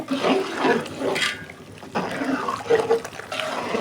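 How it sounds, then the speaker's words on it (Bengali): Water is poured into a cooking pot of fried rice and lentils, a steady splashing trickle of liquid that runs across several seconds, with brief pauses between pours. "এই যে পানি পরিমাণ মতো দিচ্ছে"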